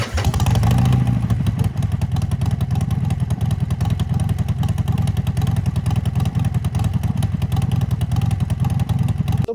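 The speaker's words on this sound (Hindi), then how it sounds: "बाइक को एक बार दोबारा स्टार्ट करके देखते हैं" A motorcycle engine idles steadily after being restarted with its air filter refitted, a loud, close, even chugging that runs throughout without a break.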